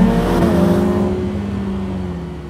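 A Ferrari F8 Tributo with a 3.9-litre twin-turbo V8 accelerates, giving a loud, rising engine roar that eases off and fades slightly as the car moves away.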